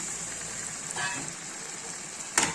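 Half a kilo of prawns sizzles steadily in a hot pan of tomato-onion masala for a Chettinadu prawn thokku, with a soft stir or clatter near the one-second mark and a sharper splash toward the end.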